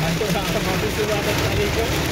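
Heavy rain pours steadily in Saudi Arabia, a dense continuous hiss with scattered patter and crackle, loud and unbroken throughout.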